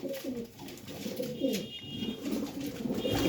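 Pigeons coo softly and repeatedly, with low, rolling calls close by and no talking.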